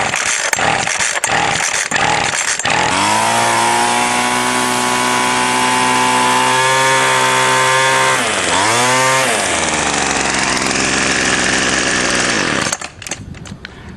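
A gas weedeater string trimmer engine, freshly primed, sputters through a few pulls, then catches and runs loud and close, its pitch dipping and surging once before it cuts out near the end.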